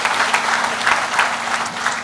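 A short burst of steady audience applause at a campus headquarters grand opening, dense clapping from a crowd held at an even level for about two seconds.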